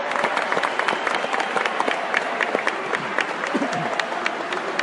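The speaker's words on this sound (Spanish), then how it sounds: "vamos a darles un gran aplauso a los nuevos" Convention audience in Mexico applauding first-time attendees, a big crowd clapping in a busy, crackling stream with sharp individual claps standing out and faint voices mixed in.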